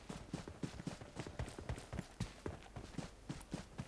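Footsteps in PUBG Mobile's Metro Royale mode: a fast, even run of thudding steps, close and fairly soft, with no pause.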